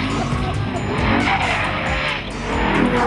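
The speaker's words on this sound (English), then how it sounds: "When the tyres are warm and you really want to use the power, it loves to oversteer." A Ferrari F12 Berlinetta oversteers on warm tyres. Loud, sustained tyre squeal and skidding sit over a continuous, roaring engine note for the whole stretch, with no talk.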